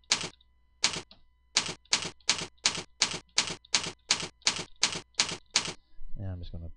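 Fingers tap a website name on a computer keyboard in a quick, even run of about thirteen crisp keystrokes, close up, and a voice starts speaking just as the typing stops.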